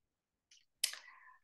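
A single sharp computer mouse click, preceded by a faint small tick, standing alone in near silence.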